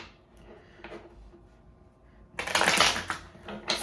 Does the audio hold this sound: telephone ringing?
no